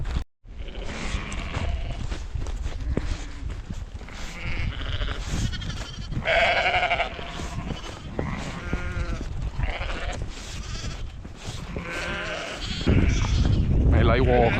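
Sheep on a Peak District footpath bleat repeatedly, loud and close, from several animals around a walker, with someone talking and footsteps under the calls.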